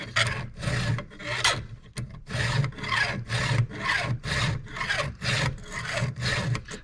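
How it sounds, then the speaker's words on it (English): A hand file rasps across chainsaw chain teeth in steady, rhythmic strokes, about a dozen even passes close up with brief gaps between them, with no talking. "I'm only filing in the filing direction."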